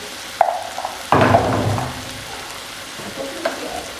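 Onions frying in a pan as turmeric and chili powder go in for a prawn curry: a sharp burst of sizzling and spatula stirring, then a quieter steady crackle with occasional scrapes.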